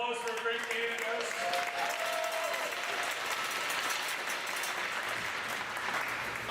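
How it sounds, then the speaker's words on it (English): Audience applause after a girls' ice hockey championship game at a Super Rink, a steady wash of clapping filling the arena, with musical tones faintly underneath early on. "Let's give these girls a great round of applause for a great game"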